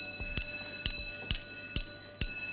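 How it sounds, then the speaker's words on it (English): A bell rings in a lecture demonstration, five evenly spaced metallic strikes, each with a sharp attack and a bright ringing tail, heard fairly faint with no voices. "you can still hear the bell"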